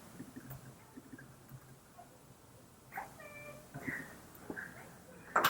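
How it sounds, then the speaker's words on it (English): A neighbour's cat lets out several short meows indoors, soft and somewhat distant at first, then a louder, closer cry near the end, over quiet room tone. "neighbor's cat"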